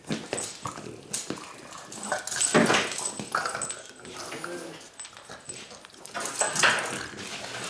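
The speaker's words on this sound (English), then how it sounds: "Oh, damn dog just attacked me." A small dog lunges and bites up close, letting out a busy run of whimpers, yips and snuffling growls amid rustling scuffles.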